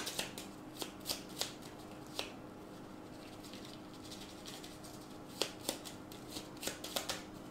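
A deck of cards is reshuffled during a Gloomhaven board game, quiet riffling and soft slaps with sharp clicks scattered unevenly across the stretch, close and faint, with no talk.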